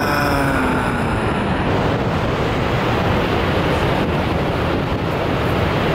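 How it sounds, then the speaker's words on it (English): A loud, steady roar of rushing water, broad and continuous, mixed with gusty wind buffeting the microphone. "You can also see all the mist coming from the falls there."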